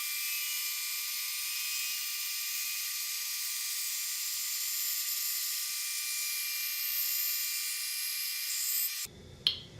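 Band saw slicing a thin wood inlay strip at 50 thousandths of an inch thick, a steady high-pitched whine and hiss running continuously for about nine seconds before cutting off abruptly, followed by a brief clunk.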